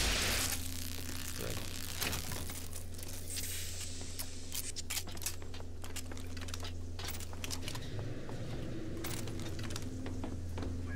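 Picking a lock in Bioshock Infinite gives a quick run of small metallic clicks, scrapes and jangles, close and busy over a low steady hum, with no talking.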